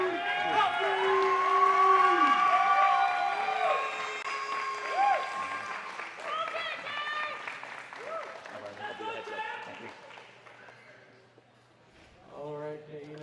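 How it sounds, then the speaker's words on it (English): An audience applauds and cheers as judges come up at a live dance competition, clapping and noise swelling then fading, with a host talking over it. "Let's make a big round of applause and a lot of noise as the judges come up for Kay, John, and Dude Coffee!"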